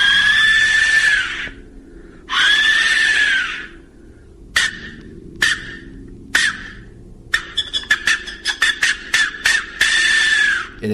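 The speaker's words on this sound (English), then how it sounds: "It has been named the death whistle because the shape resembles that of a human skull" An Aztec death whistle gives loud, piercing screeches like a human scream, first in long drawn-out blasts, then in short sharp bursts in quick succession, close and harsh.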